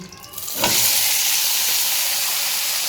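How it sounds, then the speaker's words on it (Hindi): Potatoes hit hot oil in a pan and break into a loud, steady sizzle that starts abruptly and holds close and continuous, with no talking. "आलू मैंने रख दिए और अभी इसको आलू को करेंगे अच्छे से फ्राई।"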